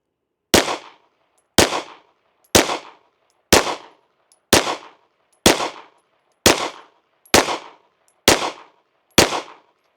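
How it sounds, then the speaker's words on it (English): Ten sharp pistol shots from a Girsan MCP 35 ring out at a slow, even pace about one second apart, each loud and close with a short decaying tail, and nothing else is heard between them. "let's shoot another 10-shot group at the bottom left"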